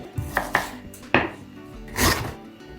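Onion and carrot chopped on a cutting board with a knife: a handful of quick, close, crisp chops in irregular rhythm, with no talking.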